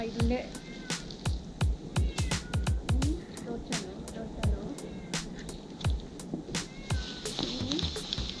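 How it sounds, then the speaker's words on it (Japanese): A cat meows repeatedly beside the water at a winter bass-fishing spot under a bridge, a rapid run of short, close mews with people talking quietly around it. "にゃんこさんがね、お魚まだですかって毎回待っててくれるんですけどね"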